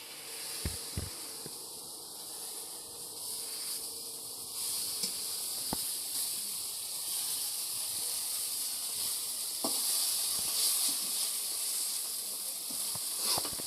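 Fish curry simmering in a pan over a low flame gives a steady, faint hiss and soft sizzle, broken by a few scattered clicks and taps, with no talking.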